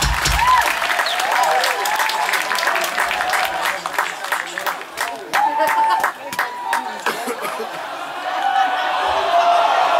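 A concert crowd at a metal show in New York applauds steadily throughout, dense clapping and cheering filling the room at full volume with scattered shouts from the audience.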